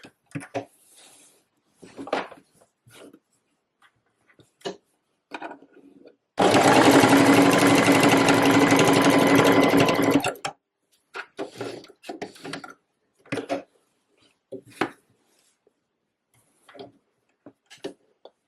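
A sewing machine stitches a waistcoat in a single sustained burst of about four seconds, close and steady. Quiet handling clicks and rustles come before and after, with no talk.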